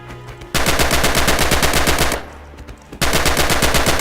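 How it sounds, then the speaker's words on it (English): Rapid automatic gunfire from blind firing in the game Rising Storm, loud sustained bursts of evenly spaced shots, broken by a short pause before a second burst. "Use blind fire now and see what you can hit"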